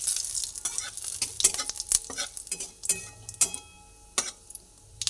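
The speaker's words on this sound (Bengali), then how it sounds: "জিরেটা অল্প করে ভেজে নিই।" Whole cumin seeds frying in oil with a bay leaf, a light crackling sizzle broken by crisp pops and spoon clicks against the pan, close and moderately loud, with no talk.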